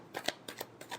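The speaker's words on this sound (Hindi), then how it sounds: "Last shuffle." Tarot cards being shuffled by hand, a few quick papery riffles and flicks in an uneven rhythm, close and fairly quiet with no talking.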